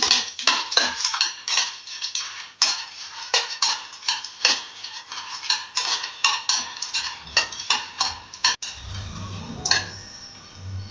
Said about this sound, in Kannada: ಗೋಡಂಬಿ ಹಾಕೊಂಡು ಹುರ್ಕೊಳ್ತಾ ಇದ್ದೀನಿ